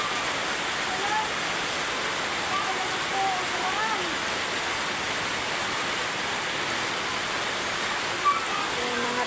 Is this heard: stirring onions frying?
no